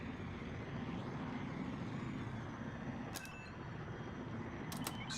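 A spaceship's hyperdrive spools up in the video game Star Wars Outlaws, a steady rumbling engine roar with a dense low drone throughout, broken by a few brief high clicks and chirps near the end.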